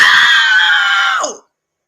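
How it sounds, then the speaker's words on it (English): A loud, shrill, sustained screech like a Halloween scream holds steady for over a second, then drops sharply in pitch and cuts off into silence. It sounds close, with no other sound around it. "With that Halloween screech."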